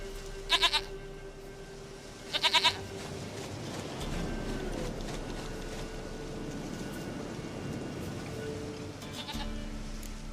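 Goat in The Witcher 3: Wild Hunt giving two short, bright bleats early on, followed by a low, steady outdoor game ambience.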